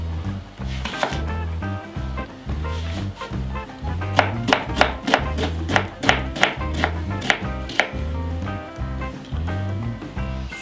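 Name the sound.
knife chopping onions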